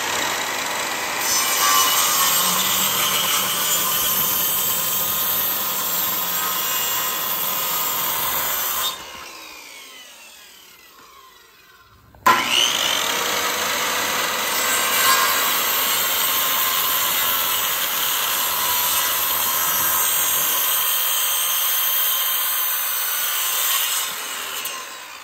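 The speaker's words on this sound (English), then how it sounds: "What we're planning to do is cut these to length and width" A power saw cuts wooden boards to length for a raised garden bed, with a long continuous whine, a brief pause and a sharp restart, then another long steady cut, close and loud.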